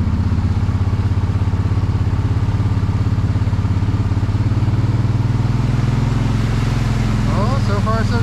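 A four-wheel drive vehicle rolling through flooded puddles, its steady engine drone and splashing clatter continuous and close, with a person talking over it.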